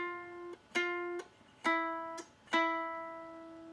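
A ukulele plucks four single notes from the Twinkle Twinkle tab, two fretted then two open strings, each clear and sustained in an even rhythm, quiet and close with no talk.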